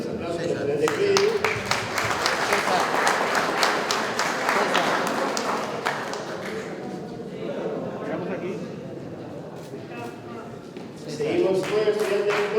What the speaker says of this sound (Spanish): Fuerte los aplausos al estudiante Freddy.